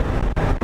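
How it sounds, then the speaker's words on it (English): New motorcycle engine grumbling at slow revs, a deep continuous low rumble that drops out briefly twice, close and loud, with no talking. "even at some slow revs here, that grumble, I absolutely love it"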